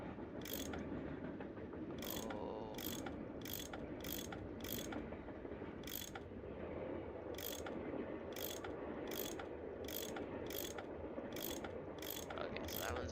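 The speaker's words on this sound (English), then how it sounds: "I bet that's what you use to unscrew these bolts." Repeated metallic ratchet clicks from a wrench unscrewing bolts in the Nancy Drew game The Last Train to Blue Moon Canyon, coming in quick bursts of several clicks with short pauses, close and clear over a low steady background hum.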